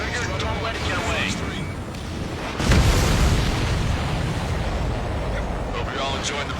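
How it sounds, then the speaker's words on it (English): An enemy supply ship explodes in the Ace Combat 7 video game, a sudden heavy boom midway through that rolls on as a broad rumble, with radio voices talking before and after it. "Did you see that explosion?"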